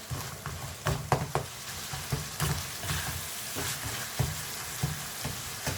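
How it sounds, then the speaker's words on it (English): Chicken keema frying with paprika, turmeric and coriander powder in a pan, a continuous close sizzle broken by repeated scraping knocks of a spatula breaking up the mince. "Just break the keema with your spatula or spoon so it's nice and fine."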